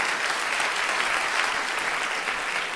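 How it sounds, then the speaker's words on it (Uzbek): Studio audience clapping steadily and warmly at a moderate distance, a dense continuous wash of applause with no voices over it. "Kelinglar, sizlarni bir qarsaklar bilan ularni olqishlab qo'ysak"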